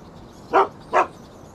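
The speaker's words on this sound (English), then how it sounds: "The social life in this town is greatly restricted just due to all of the dogs." Two barks from a dog in the video game Shadow of Destiny, evenly spaced and moderately loud over a quiet background.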